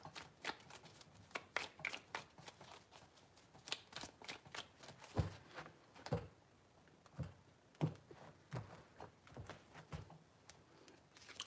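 Tarot cards being shuffled by hand in a tarot reading, a steady run of crisp riffling and tapping bursts with brief pauses, close and fairly quiet, no talking.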